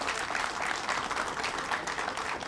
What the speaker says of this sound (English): So everyone, a round of applause.